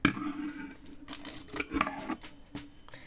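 Scissors snip through material in a few crisp close cuts, each a short sharp blade click with some rustling in between, and nobody speaks.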